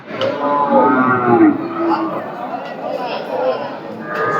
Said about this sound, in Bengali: এবার গরু আসতেছে এখন অনেক গরু আসতেছে